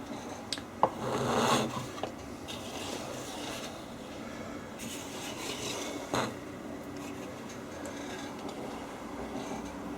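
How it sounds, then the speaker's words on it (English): Soft, rasping scrapes of a small sanding tool against the edges of a wooden clamshell box, a steady low rubbing with a few brief louder strokes, close by and without talk. "I've got a little sanding tool here"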